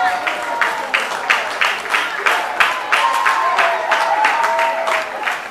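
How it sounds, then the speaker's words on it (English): A crowd at a Special Olympics swimming meet in Trinidad and Tobago applauds and cheers a swimmer finishing a 50 meter backstroke relay; rhythmic clapping and cheering fill the space with a voice over the top. "Let's continue to cheer him on"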